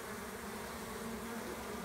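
A honeybee swarm in a collection box in Hampshire, UK, makes a dense, continuous buzzing drone, steady and close with no talk over it.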